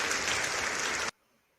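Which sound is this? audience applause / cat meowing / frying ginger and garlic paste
audience applause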